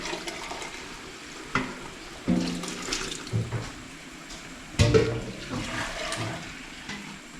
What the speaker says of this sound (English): I can always add some more fresh water